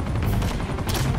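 Rapid bursts of gunfire in the video game Uncharted 2, sustained and loud across the whole moment with no pauses, dense crackling shots over low booming rumble.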